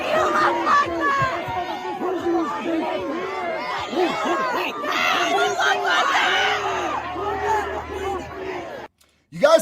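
A dense street crowd of rioters, many voices chattering and shouting at once in a loud, continuous babble with occasional louder cries, cutting out abruptly near the end.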